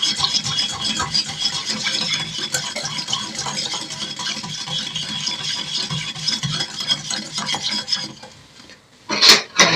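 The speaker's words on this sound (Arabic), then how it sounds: "وهنقلبهم كويس علشان نعمل الدريسنج بتاعي اللي هنتبل بيه" A spoon stirs a white bean salad dressing made with oil in a bowl, a steady scraping and rubbing that runs on and then pauses before a couple of louder clinks.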